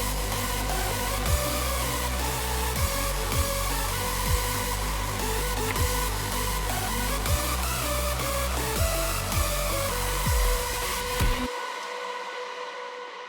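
A bright, euphoric electronic dance synth melody from an early version of the Bright Visions & Rogue Zero track "How Can I Forget," playing loudly over a pulsing bass line before cutting off abruptly near the end.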